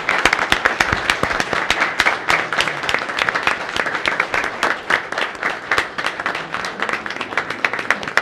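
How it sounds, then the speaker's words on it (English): People at a city council meeting applaud for the city's dispatchers, a small group clapping in distinct, close, crisp claps that continue steadily for about eight seconds. "just a round of applause"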